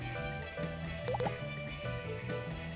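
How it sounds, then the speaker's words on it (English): Drops of red food coloring fall into a baking soda volcano, giving a few soft, close drips and plops over a steady background hum. "Add a few drops of red food coloring."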